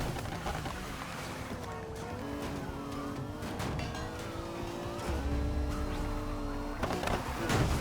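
Police cars chasing in the Need for Speed Heat racing game, with revving engines, gliding tonal sweeps and tire noise layered together, steady and close, swelling near the end.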